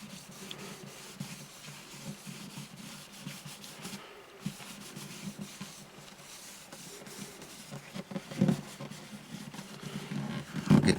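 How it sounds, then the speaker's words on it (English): Ebony dust is rubbed by hand into a dot inlay on the bridge of an Alvarez Artist AD65 acoustic guitar, making soft, irregular scrubbing strokes that grow a little louder toward the end. "Rub a little of it on, rub a little of it off."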